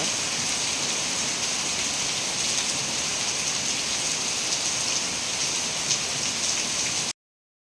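Heavy rain pouring steadily in Udupi during the monsoon, a dense, even hiss of water on surfaces that stays constant throughout, with no voices.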